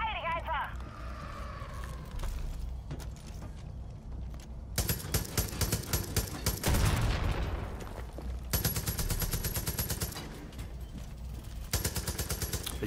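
In Far Cry 5, repeated gunfire in sharp bursts hits consoles during a boss fight against John Seed, with loud rapid shots cutting in and out and a voice talking between volleys.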